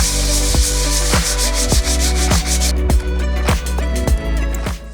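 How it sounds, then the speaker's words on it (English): Sandpaper rubbing back and forth over a filled patch around an old light switch on a wall, close and loud, with repeated rhythmic scraping strokes in steady succession. "That's taken 2 minutes to sand flat."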